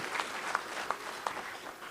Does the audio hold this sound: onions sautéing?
no